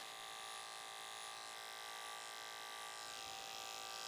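Electric hair clippers running steadily while a fade haircut is given on curly hair, a faint, even buzzing hum with no change in pitch and no talk.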